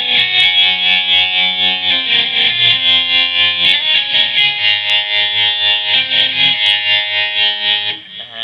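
Electric guitar played through a Line 6 Pocket POD Express amp modeler on a cabinet model like a Spider amp, giving a loud, sustained, distorted tone with chorus-like shimmer and ringing chords that fade near the end.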